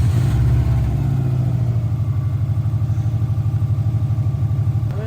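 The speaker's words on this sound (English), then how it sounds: "Let's get this car started." An older five-speed manual car's engine cranks and catches, then settles into a steady, rhythmic idle pulse that stays close and fairly loud, with no talking.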